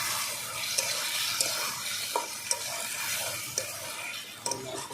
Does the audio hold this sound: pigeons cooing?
no